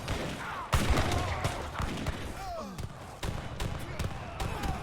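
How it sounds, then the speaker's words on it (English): Artillery exchange in Age of Empires III during a team game, a loud barrage of booming impacts and scattered shot cracks that repeat in irregular bursts over dense battle noise, with a commentator talking over it. "there's a artillery fight"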